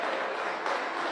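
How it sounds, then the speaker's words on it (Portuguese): A church congregation applauds during a worship service, a dense, steady burst of many hands clapping together at close range. "aplaudi ao Senhor com as mãos e cantai a Deus com voz de triunfo."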